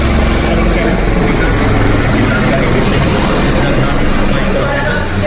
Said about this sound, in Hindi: हेलीकॉप्टर ड्रोन का भी बलद्वार परवान में प्रयुक्त होने के साथ साथ ये हेलीकॉप्टर हमारे रक्षा बलों के लिए बहुत उपयोगी संसाधन है।